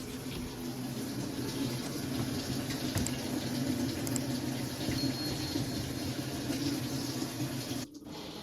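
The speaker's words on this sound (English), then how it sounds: "The first go into the cold water valve test." Water rushes steadily through the cold water valve into a Samsung top-load washer in test mode, a constant close hiss and gurgle of filling that runs unbroken, then briefly dips near the end.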